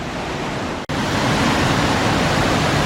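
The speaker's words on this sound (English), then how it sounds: "Little waterfalls and a really deep pool just cut out of the rocks" A small waterfall pours into a deep pool cut out of the rocks of a gorge, giving a loud, steady broadband rush of falling water. The rush breaks off for a split second near the start.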